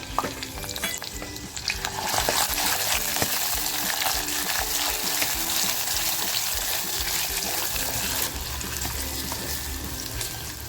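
Cloves, cinnamon, black pepper and cardamom fry in hot oil with rendered mutton fat, giving a loud, steady, close sizzle with occasional stirring scrapes throughout.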